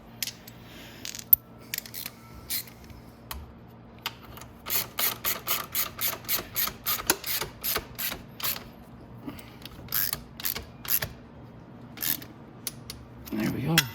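Ratchet clicking in bursts while tightening the two large 17 mm motor mount bolts on a Venom X22r 250cc dirt bike, close and fairly faint, with a steady low hum behind and brief talk.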